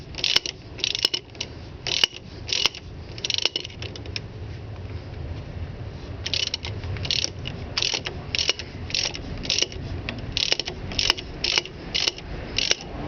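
A bush removal tool's bolt is wrenched to draw a control arm bush out of a Ford EB Falcon, sounding as a steady run of sharp ratchet clicks in quick bursts, close and metallic over faint mechanical creaking.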